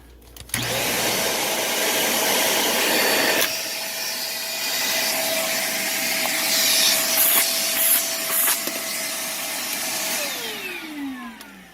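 A Shark vacuum cleaner runs with its repaired hose, a loud steady whooshing roar that continues for several seconds, then the motor pitch slides down as it winds down, with no talk.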